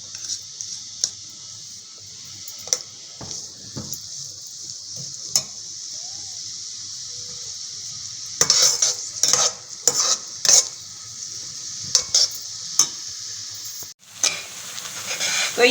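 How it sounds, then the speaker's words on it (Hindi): Onions sizzle steadily in a hot pan while a utensil scrapes and stirs now and then, with sharper clatters toward the end. "इसमें मैं ये अपनी थोड़ी सी प्याज कच्ची पक्की कर लूँगी"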